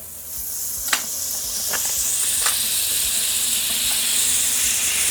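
Steak sears in salted butter in a low pan, giving a steady close broadband hiss with a few brief crackles and spatters throughout.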